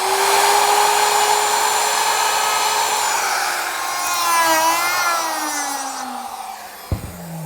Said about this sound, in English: Using a small round over bit, I'm going to round over the outer edge of this arch